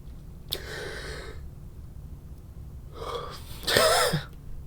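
A man yawns twice: a short breathy yawn early on, then after a pause a longer, louder one that rises into a voiced, gliding groan before fading.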